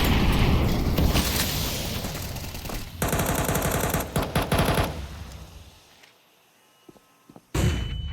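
Dense, loud automatic gunfire in a Counter-Strike-style match on the Inferno map, sustained bursts for about six seconds before cutting to near silence, then a final loud burst at the end.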